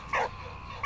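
A dog in the video game Valiant Hearts gives a short yip or bark, a single brief call, moderately loud over a quiet background.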